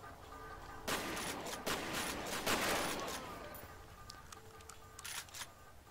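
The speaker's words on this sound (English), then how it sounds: "Alright, shotgun time." Shotgun blasts in the shooter game F.E.A.R., a few heavy broadband booms spaced out over several seconds amid game noise, fairly loud and close, no talking over them.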